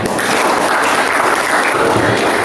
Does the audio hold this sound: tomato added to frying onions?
no